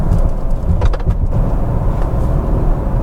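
A 2025 Toyota Camry all-wheel-drive sedan with sport-tuned suspension runs through a series of curves, its steady engine drone and road rumble loud and continuous from inside the cabin, with brief whooshing swells midway.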